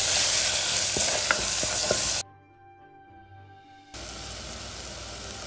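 Masalas and salt frying in a pan, a loud, close, bright sizzle with light stirring scrapes that cuts out abruptly, leaving a quiet gap with a faint hum, then resumes.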